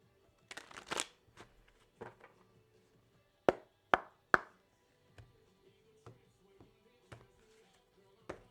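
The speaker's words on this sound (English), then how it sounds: "Last shuffle, Spirit." Cards are shuffled and riffled in short bursts of crisp flicks and taps, close and fairly quiet, with pauses in between.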